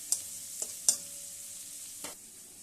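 Bitter gourd (karela) frying in a pan with salt makes a faint, even sizzle, with a few soft spatula taps spaced apart and no speech.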